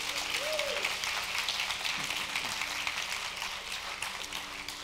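A church congregation applauds during a service, a steady, moderately distant wash of many hands clapping that continues throughout.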